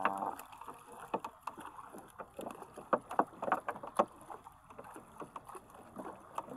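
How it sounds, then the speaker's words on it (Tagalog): Oars splash and knock rhythmically as a small wooden fishing boat is rowed on open water, soft uneven strokes repeating close by over a light wind-like wash. "Tayo ay taga-bugsay ngayon. Sa ating bangka."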